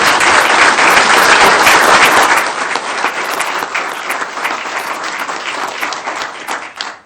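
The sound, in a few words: audience applause for firefighter's wife and sons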